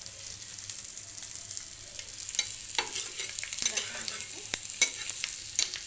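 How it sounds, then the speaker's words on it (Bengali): An egg fries for a poached egg, making a soft, steady sizzle with scattered sharp crackles and a few utensil clicks, and no voices are heard. "আমি ডিমের পোচ বানাচ্ছি, মানে ডিম ভাজা"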